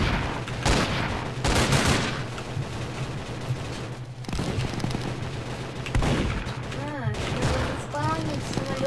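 Rapid bursts of airship cannon fire in Roblox Zeppelin Wars thunder in clusters, interspersed with chaotic sound effects and a brief rising electronic tone near the end.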